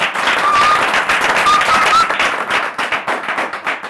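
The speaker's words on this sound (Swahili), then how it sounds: "Wapi makofi ya Dr. Juma?" Audience at a Kenyan talk show breaks into applause for a scientist guest, dense clapping that stays loud and even before thinning into scattered, separate claps toward the end.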